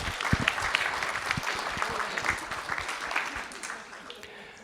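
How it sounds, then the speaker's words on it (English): A board of trustees meeting audience gives a school commendation a round of applause, dense steady clapping from a crowd filling the room, fading slightly toward the end. "Let's give them one more round of applause."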